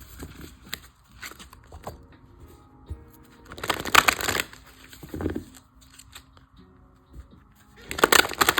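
Tarot cards are shuffled by hand nearby in irregular bursts, with soft rustles building to two louder, dense riffling flurries separated by quieter handling sounds, without speech.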